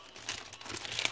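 Stiff, fairly firm linen fabric sheets handled up close, giving a short run of dry crinkling and rustling that rises after a quiet start, with sharp little crackles near the end; no talking.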